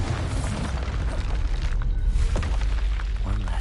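A Bombarda spell explosion in Hogwarts Legacy on PlayStation 5 gives a loud, dense booming blast with heavy low rumble that stays up the whole time, with bursts and crackling on top.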